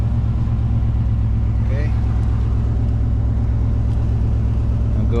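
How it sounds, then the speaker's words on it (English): A 5.7L Chevy V8 turns over from cold and settles into a loud, steady, throbbing idle close by, with a brief word spoken over it. "we'll go ahead and give it a cold start now"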